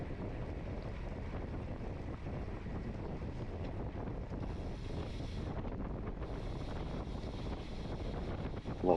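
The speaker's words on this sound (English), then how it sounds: "it's windy" Steady, heavy wind buffeting a microphone during a bicycle road race, a continuous low roar with no voices, swelling briefly at the end.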